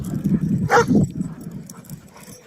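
A 10-month-old Turkish Gürün dog gives a short whimpering yelp close by in snow, with low background rumble and movement around it.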